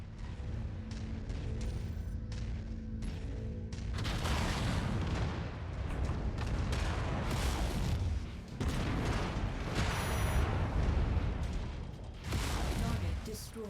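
Autocannon fire from an AC5 in the mech combat game MechWarrior 5: loud, dense volleys of booming shots that pile up into near-continuous blasts from about four seconds on, alongside other battle noise.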